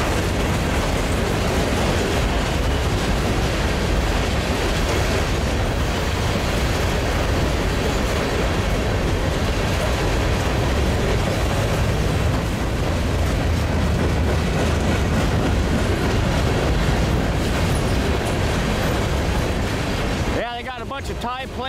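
A shiny CN unit train passes on the railway, a steady loud rumble and rolling rail noise that fills the whole stretch close by, with a brief change at the very end.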